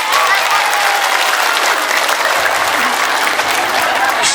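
A mosque audience at an ustadzah's religious talk breaks into loud, dense applause that holds steady throughout, with some murmured voices beneath the clapping.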